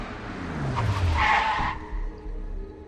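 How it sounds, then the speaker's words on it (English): Car tires screech as the car skids into a driveway: a short, loud, rising squeal with a low engine sweep beneath it, then fading into a quieter rumble. "The car screeched past the creek,"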